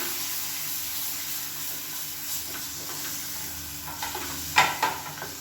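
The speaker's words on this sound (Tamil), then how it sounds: "இப்போ லேசாக எண்ணெயில் வதக்கி விட்டுட்டு நம்ம அரைச்சி வச்சுருந்த கருவேப்பிலை கொத்தமல்லி பேஸ்ட்டையும் இதில் சேர்த்துக்கலாம்." Curry leaf and coriander paste sizzles and is stirred in hot oil for a Tamil kuzhambu, a steady close frying hiss with a few sharp spoon scrapes near the end.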